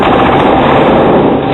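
Dense, loud burst of rapid gunfire used as a sound effect in a Hindi television news bulletin about shooting at Nabha jail, a continuous rattling roar filling the whole moment with no pause.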